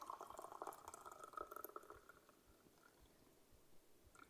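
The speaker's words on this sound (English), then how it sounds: "So I'm gonna top with hot water." Hot water streams into a warm mug already holding brandy for a chai cocktail, a steady liquid pour that is strongest in the first two seconds and then tapers off.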